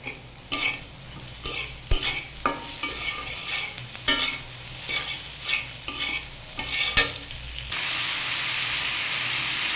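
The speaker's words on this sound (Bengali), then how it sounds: "সয়াবিনটা নেড়ে চেড়ে ভেজে নেব।" Soybean chunks sizzle in hot oil while a spatula scrapes and tosses them in repeated bursts, ending in a steady hiss; no talking.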